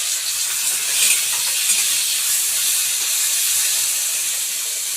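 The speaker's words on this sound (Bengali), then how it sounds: "এবার আমি ম্যারিনেট করা ছিল চিংড়ি মাছ দিয়ে দিলাম কড়াইতে" Marinated shrimp go into a hot wok and set off a loud, continuous hissing sizzle. It stays dense and even throughout with little variation, and no voices are heard.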